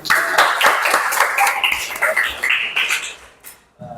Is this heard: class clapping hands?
yes